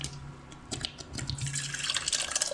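Water pours and splashes into a metal lota in a home kitchen, a light trickle that grows into a steady, brighter splashing flow.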